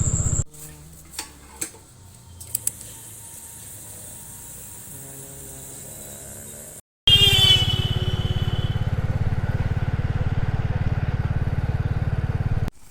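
A motorcycle stalled on a road near a railway crossing with its fuel not coming through: quiet stops at first, then the engine catches and revs loud and close, running steadily until the end.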